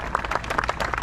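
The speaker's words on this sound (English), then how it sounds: "let's give them a big round of applause" An audience applauds first-time Ironman athletes at an athlete briefing in Chattanooga, with dense, steady clapping from a crowd close by and nobody talking over it.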